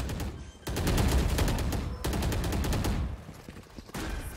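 Rapid automatic gunfire crackles in bursts during a competitive Valorant match, loud sustained volleys broken by brief pauses, with faint commentary beneath.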